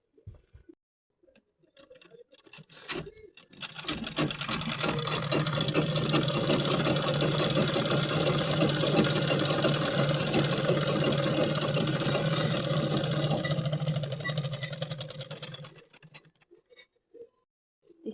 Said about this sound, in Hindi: और इसमें सिलाई लगाते जाएंगे।